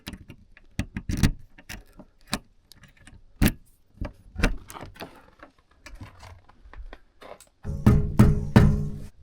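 Keys to a trailer on an off-grid property in Alaska jangle and clink in scattered bursts, close by, with a louder rattling flurry near the end; no talking.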